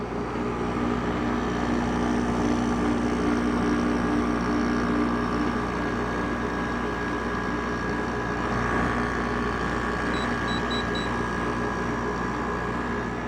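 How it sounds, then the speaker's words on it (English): A Haier window air conditioner's rotary compressor runs with a steady, even drone and layered hum, constant and moderately quiet throughout, with faint brief high beeps near the end. "Now here's the first startup of the compressor for 2021."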